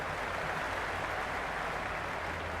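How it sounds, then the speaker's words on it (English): Steady, dense crowd roar from a stadium at a Big Bash cricket match between Sydney Sixers and Adelaide Strikers in the Cricket 26 video game, a continuous even wash of noise with no break. "The crowd are really getting quite raucous."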